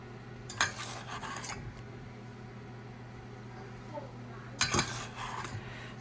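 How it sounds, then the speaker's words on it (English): Crumb topping spooned over apples in a baking dish for a country apple coffee cake, two bursts of spoon scraping and clinking against the dish, quiet with a low hum between. "let's spoon this over top of all of this great apples"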